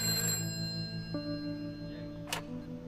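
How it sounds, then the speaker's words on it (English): A telephone rings in the prison-escape video game A Way Out, a thin electronic tone starting partway through and holding steadily over quiet ambient hum, with a short bright click near the end. "I'd like to make a phone call"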